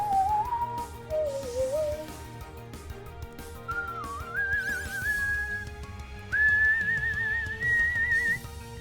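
A streamer whistles a wavering melody in short phrases alongside soft background music from the game Pokémon Brilliant Diamond, the whistled notes clear and close with brief gaps between them.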